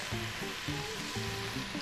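A sautéed onion-and-aromatics base for shrimp couscous (cuscuz paulista) sizzles in a pan: a steady, close frying hiss with faint clinks of stirring.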